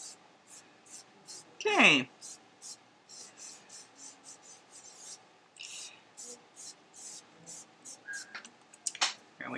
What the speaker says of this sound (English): I'm going to use my finger and just smooth that out.